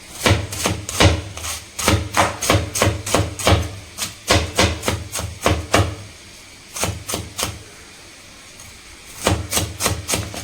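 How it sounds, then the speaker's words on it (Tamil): Knife chopping onion on a board for a Sunday chicken gravy, a rapid, steady run of sharp close taps in bursts, with a short pause before the chopping resumes. "ஆனியனை இந்த மாதிரி ஸ்லைஸ் பண்ணிட்டு கூட நம்ம கட் பண்ணிக்கலாம்"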